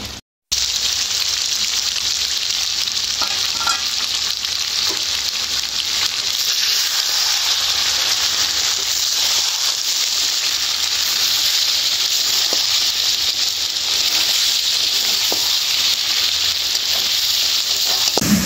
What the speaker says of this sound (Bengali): মাংস আর মশলা খুব ভালো করে কষিয়ে নিচ্ছি।